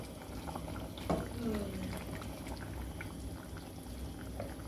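Red curry with pork belly bubbles in a pot in a low, steady simmer, soft gurgling under faint room noise, with a brief clink and a short squeak partway through.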